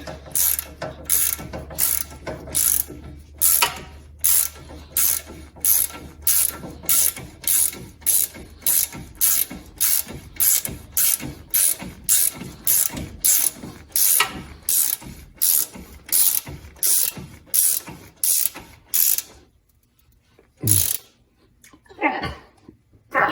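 A ratchet wrench tightens a CV joint bolt on a 2008–2020 Grand Caravan or VW Routan, a long run of rapid, rhythmic clicking strokes close by that stops near the end, leaving faint handling noise.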